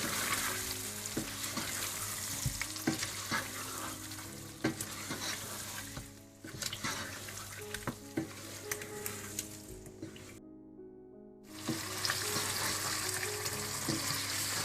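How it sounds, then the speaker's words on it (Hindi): Chicken sizzles and fries in a pot with a yogurt and browned onion mixture for a korma, a steady close crackle with stirring knocks throughout, pausing briefly near the end before resuming. "आप इसमें दही और ब्राउन प्याज का मिक्सचर डाल दें। और फिर इसको अच्छी तरह से भून लें।"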